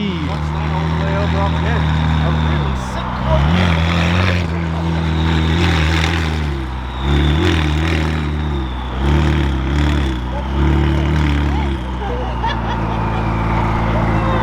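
McLaren 600LT supercar rolling in and pulling up, a loud, steady low engine drone with shifting revs close by, under crowd chatter and people talking throughout.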